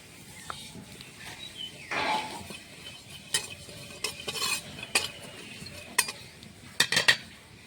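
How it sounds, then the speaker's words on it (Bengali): Cumin seeds dry-roast in an oil-free pan, heard as faint intermittent scraping and sharp clinks of a utensil stirring against the metal, with quiet gaps between strokes. "শুকনো খোলাতে কটা জিরে ভেজে নেব"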